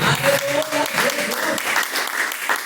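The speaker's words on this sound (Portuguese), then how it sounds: "quem crê bate palmas, irmão." A church congregation claps hands during a sermon, dense clapping mixed with overlapping voices and a sung or spoken line over it.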